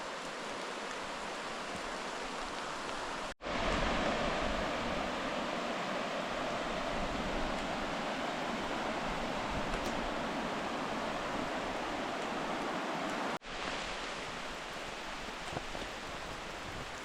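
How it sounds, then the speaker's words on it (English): Small waterfall on Spring Creek in Oregon, a steady broadband rush of falling water close by, loud and continuous, with two brief cuts where the sound drops out before resuming. "we have a little Spring Creek surprise fall"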